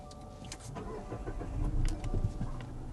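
A 2025 Subaru Forester or 2025 Mazda CX-5 engine cranks and catches, rising briefly before settling toward a steady idle, heard close and clear.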